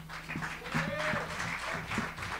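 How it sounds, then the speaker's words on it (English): Faint audience applause for comedian Billy at a college comedy show, a soft wash of clapping with a tonal hum and a brief rising whoop-like sound partway through. "How about one more round of applause for Billy?"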